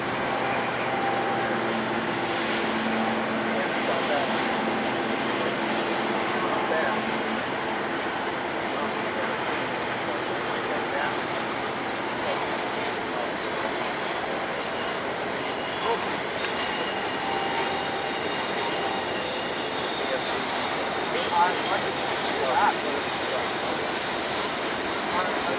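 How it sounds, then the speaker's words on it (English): Westbound train locomotives throttling up at night at the Harrisburg rail terminal: a steady, loud, broad engine roar that holds for the whole stretch, with a thin higher whine emerging near the end. "As the westbound throttles up into the darkness"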